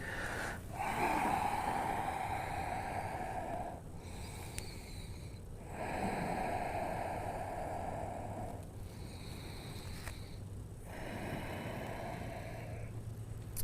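Long, slow breaths drawn in and let out during a seated shoulder stretch in a vinyasa yoga class, audible airy inhales and exhales alternating in a steady cycle over a faint background hum.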